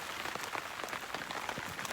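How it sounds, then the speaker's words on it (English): Steady rain patters on a lakeside campsite in Crownland, a dense, even hiss of drops on surfaces with scattered close taps throughout. "Camping in the rain, Jordan."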